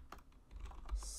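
Quick keystrokes on a computer keyboard while HTML and JavaScript code is entered, a short run of soft clicks close to the microphone with no voices over them.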